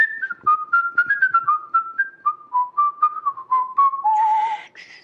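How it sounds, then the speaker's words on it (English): A person whistles a clear, close melody of short separate notes that gradually step downward in pitch, ending with a breathier held tone. "Should I whistle for people?"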